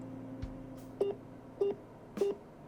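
Telephone tones before a call to a van customization company: three short evenly spaced beeps over a faint steady background hum, quiet and close, with no talking.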